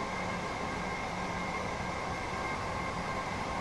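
A Southeastern train in Train Sim World 2 running between Faversham and London, a steady rumbling roll with a constant hum and a faint whine, even and unbroken.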